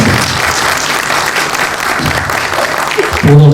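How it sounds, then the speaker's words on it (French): Warm, sustained applause from an audience, dense and even throughout, with no voices over it. "la personne du père Jean-Marie Petitclerc, que je vous demande de saluer et d'applaudir avec chaleur."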